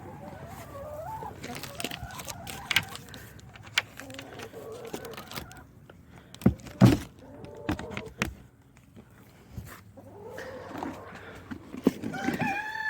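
Chickens cluck and a duck calls around a chicken coop on an early morning, with irregular bursts of clucking and squawks, some near and loud, over a steady farmyard background.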